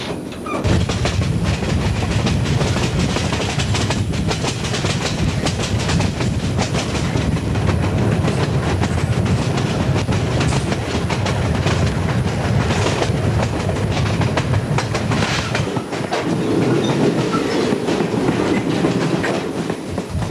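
The Cape Cod Dinner Train, a passenger train, rolls steadily along the rails, a continuous loud rumble with rhythmic clickety-clack of wheels over joints throughout, close by.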